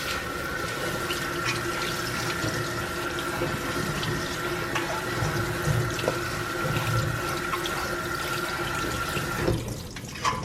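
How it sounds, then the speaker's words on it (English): Kale leaves are washed under a kitchen tap, a steady splashing stream of water running into the sink for several seconds before cutting off near the end. "it's time to make sure our kale is nice and washed and clean"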